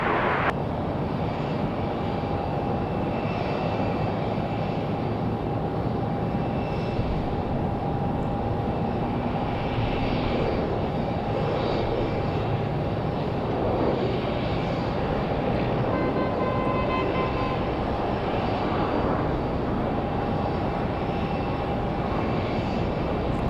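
Steady, loud broadband roar of a fixed-wing airliner on approach to land on runway 5 right at Raleigh-Durham airport on a windy day, a continuous engine and wind rumble lasting throughout with no talk.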